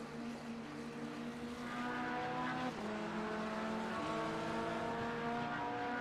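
A GTP prototype race car's engine in an 8 Hours of Spa sim race, rising and falling harmonic revs with gear shifts, fairly steady and moderately loud, with no talk over it.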